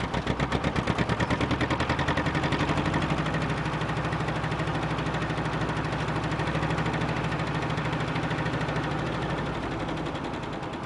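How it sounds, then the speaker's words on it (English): The Lister engine of the narrowboat Elizabeth runs close and loud with a rapid, even pop-pop-pop beat, holding steady and unbroken throughout. "They can hear the engine, a real nice pop, pop, pop."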